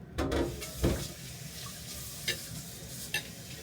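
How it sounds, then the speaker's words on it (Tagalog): Dishes are washed at a kitchen sink under a running tap. Water streams steadily at middle distance, broken by a few clinks and clatters of dishware, with no one talking. "Naghuhugas lang si Marvin."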